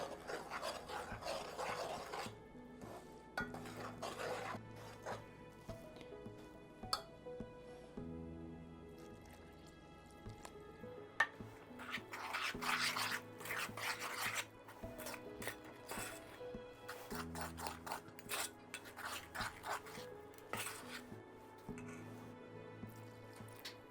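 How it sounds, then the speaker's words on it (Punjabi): A bowl of lemon cake batter with milk is stirred by hand in one direction, making quiet, irregular wet scraping and squishing sounds close to the mic, with pauses between strokes. "ਜਦੋਂ ਆਪਾਂ ਕੇਕ ਦਾ ਮਿਕਸ ਬਣਾਈਦਾ ਹਮੇਸ਼ਾ ਇੱਕ ਪਾਸੇ ਨੂੰ ਇਹਨੂੰ ਘੁਮਾਈਦਾ"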